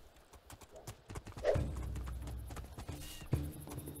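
Horse hooves clip-clop in the fantasy video game Two Worlds II, a run of quiet, fairly close hoof knocks with a short whinny partway through.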